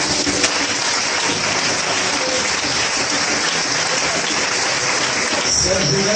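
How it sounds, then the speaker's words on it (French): A church congregation applauding its youth group, loud sustained clapping from a large crowd filling the room throughout, with voices mixed in. "je voudrais qu'on acclame cette jeunesse."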